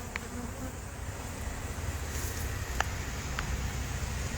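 Dense, steady drone of agitated honey bees buzzing in an open hive at night, close and continuous, with a few brief clicks and knocks over the swarm.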